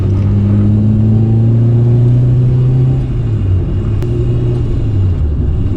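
A loud Peugeot 106 Rallye rally car engine drones and revs from inside the vehicle, its pitch holding then shifting downward, with steady road rumble underneath.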